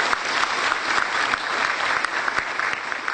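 Dense, loud hand clapping from a large audience at a gathering of Quran school teachers from the Solo region, a continuous even roar of claps throughout.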